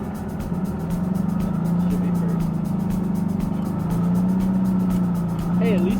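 Engine of a 1952 MG TD kit car running while driving, a steady low droning hum with slight rises in pitch, close, with voices talking over it.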